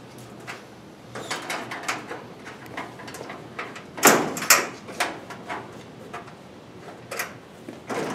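Hinge pins are worked out of a MagnaTherm door: a scattered series of light metallic clicks and taps, with one sharper knock midway, close and fairly quiet.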